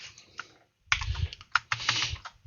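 Computer keyboard keys are struck in quick shortcut presses, a sparse few clicks and then dense bursts of clattering taps, close and clear with no talk.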